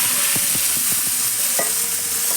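Marinated country chicken is stirred in hot oil with whole cumin, loud constant sizzling cut by a series of close, rhythmic spatula scrapes against the pan.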